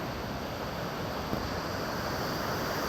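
Floodwater rushes through opened gates at the Mallavaram dam during heavy rain, a loud, dense, unbroken roar of churning water filling the scene with no pauses.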